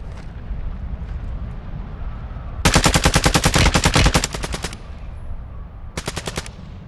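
Rapid machine-gun bursts rattle in a video game during a hostile strike, a dense volley of evenly spaced shots lasting over a second and then a shorter burst later, loud over a low rumbling background.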